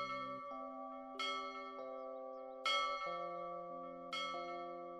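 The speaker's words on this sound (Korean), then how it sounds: "그때 종소리가 댕댕 울리더니" Bells ring out in a slow sequence of resonant tolls, each strike sounding clearly and its tones overlapping the lingering decay of the one before. No other sounds are present.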